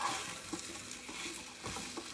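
A spoon stirs meat browning in a pot for corn and shrimp soup, with faint sizzling and soft scraping knocks at a moderate pace, quiet and close.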